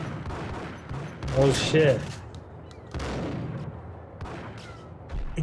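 Gunfire from the video game Max Payne: a loud cluster of shots around the midpoint, another burst a bit later and one at the end, with a player talking and swearing between them.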